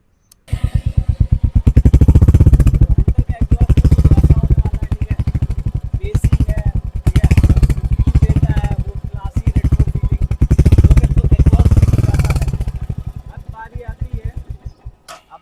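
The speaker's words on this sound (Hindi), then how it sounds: "तो अगर आप लोग हंटर का एग्जॉस्ट नोट सुनेंगे" A Hunter 350 motorcycle engine runs with a deep, pulsing exhaust note, revving up and settling back in several loud waves, close by.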